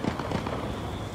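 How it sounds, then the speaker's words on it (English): A quick run of sharp popping gunshots, several in close succession over a dense noisy background of a street riot, fairly distant. "Sounds like gunshots, you guys."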